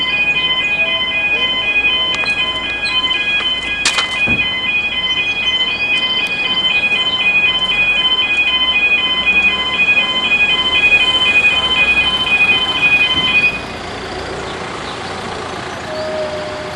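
Warning alarm at a railway level crossing in Ware sounds as the gates rise, a steady electronic tone ringing loud and continuous for about thirteen seconds before cutting off, leaving outdoor background noise.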